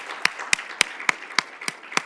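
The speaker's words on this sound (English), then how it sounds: "So let's just have a round of applause." Round of applause at an opening-remarks session, heard as a slow, regular series of about seven sharp claps roughly a quarter second apart, fairly close and clear over a quiet room.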